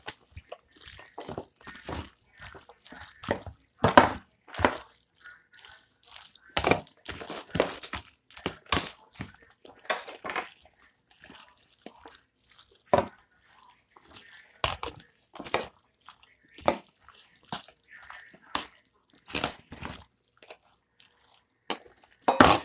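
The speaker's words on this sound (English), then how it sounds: "Let me stir it in." Cheese is stirred into macaroni and cheese in a pot, with wet, squishy scrapes and crunchy stirring strokes coming in irregular bursts close by.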